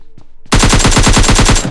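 Automatic gunfire in the video game PUBG Lite: after a faint click, a rapid burst of about a dozen loud, evenly spaced shots rattles off for just over a second, then stops.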